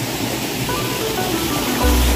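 Fresh water pours from above at Gondivanka Jalakanteshwara in a continuous, dense rushing roar, loud and close, with a deeper splash swelling near the end and no talk.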